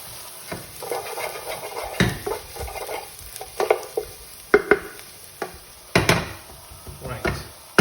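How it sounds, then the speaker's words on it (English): Spoon stirring spices through a sizzling vegetable bhaji stir-fry in a pan, a run of irregular scraping knocks over a soft fry hiss, close and fairly loud, with a few sharper clanks of utensil on pan. "always remember to stir the spices through, whatever spices you use"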